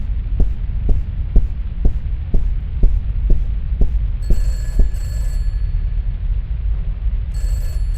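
A telephone in a video game rings in bursts of bright electronic trills over a loud, low rhythmic throbbing hum with regular thumping beats.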